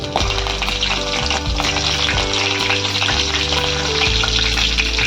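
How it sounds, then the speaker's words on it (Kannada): Mustard seeds splutter and crackle in hot oil, a loud, dense, close sizzle with rapid popping, steady throughout with no voice. "ಎಣ್ಣೆ ಬಿಸಿಯಾಗಿದೆ ಅದಕ್ಕೆ ಸ್ವಲ್ಪ ಸಾಸಿವೆ ಸಾಸಿವೆ ಸಿಡಿದ ನಂತರ ಸ್ವಲ್ಪ ಕರಿಬೇವಿನ ಸೊಪ್ಪು"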